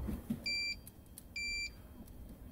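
A car-fuse continuity tester sounds two short electronic beeps roughly a second apart inside a car on the driver's side, over a low background rumble.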